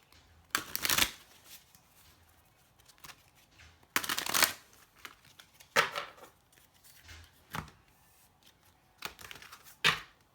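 Keepers of the Light oracle cards by Kyle Gray being shuffled close up, several separate crisp riffling bursts with quiet pauses between them, no voices.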